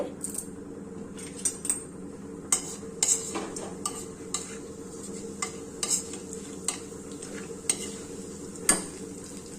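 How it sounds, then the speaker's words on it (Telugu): Tempering spices crackle in hot oil for a ridge gourd dish, a steady low sizzle broken by repeated sharp spoon scrapes and clinks against the pan. "పోపు వేసుకోవాలండి"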